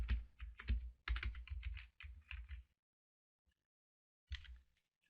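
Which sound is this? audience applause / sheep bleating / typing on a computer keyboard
typing on a computer keyboard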